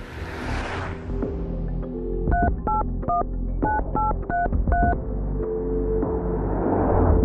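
A telephone keypad gives a quick run of about seven dialing tones in a steady rhythm, clear and close, over a low background hum.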